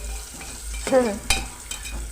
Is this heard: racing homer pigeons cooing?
no